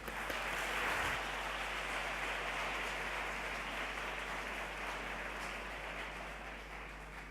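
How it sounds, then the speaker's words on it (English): A conference audience applauding after a speaker is introduced at a morning session, a steady wash of clapping that holds evenly and slowly fades toward the end. "Let us give her a really huge round of applause to her, please."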